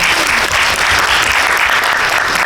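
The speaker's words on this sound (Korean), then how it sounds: "감독님께 박수 한번" Audience applause for the director at a memorial screening Q&A for the film Butterfly Sleep, loud and dense, steady throughout with no break and no voices.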